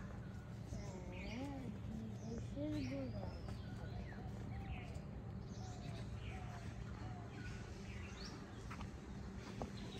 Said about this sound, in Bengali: সুন্দর পাখির ডাক